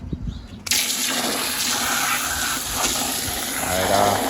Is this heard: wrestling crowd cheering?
no